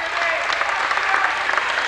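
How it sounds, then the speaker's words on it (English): A crowd at a 1995 high school boys basketball district final applauds a player leaving the game, a dense, steady wash of clapping heard up close with no gaps. "Kyla coming out gets a nice hand from the crowd"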